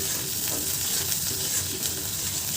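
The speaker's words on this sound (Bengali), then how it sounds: "এখন এটাকে তেলের মধ্যে ভালো করে ফ্রাই করতে হবে" A paste of ground garlic, onion and coriander leaves frying in hot oil, giving a loud, continuous crackling sizzle with occasional stirring sounds throughout.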